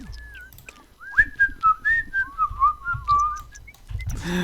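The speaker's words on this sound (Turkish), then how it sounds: "Bu aynı Brandon'ın ıslık çalması gibi." A Sims 4 character whistles a wavering, sliding tune close up and fairly loud for several seconds, with a soft rumble of game sounds underneath.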